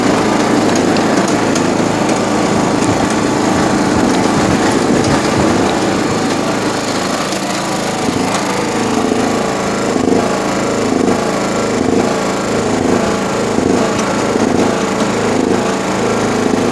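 A John Deere GX75 riding mower's engine runs loud and close without a break, its RPM surging up and down throughout. No one speaks over it.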